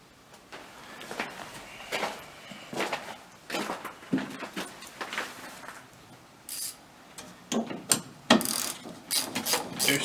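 Ratchet clicking in bursts while removing the small gas filler neck bolts on a 1983 Jeep CJ5, close and fairly loud, with brief pauses between runs of rapid pawl clicks.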